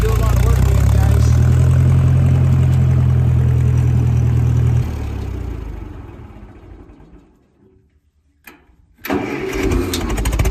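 A 1956 Massey-Harris MH50 tractor engine runs with a steady low chug, then is shut off and winds down to near silence before a brief restart of noise.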